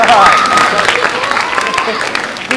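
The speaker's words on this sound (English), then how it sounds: "A big round of applause." An audience claps for a short burst of steady, dense applause at a school presentation, with voices mixed in over the clapping.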